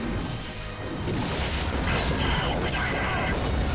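Torpedo launch followed by rumbling, crashing explosions in the space combat game Wing Commander Prophecy, a dense continuous barrage of booms and bursts filling the clip.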